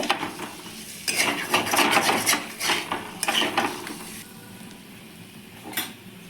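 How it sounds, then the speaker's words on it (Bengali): Fried potatoes being stirred into a pan of cauliflower curry, with close scraping and clattering of a utensil against the pan over a light sizzle, busy at first and then tapering off. "আলুগুলো দিয়ে ভালো করে এটা আবারও একটু নাড়াচাড়া করে নেব"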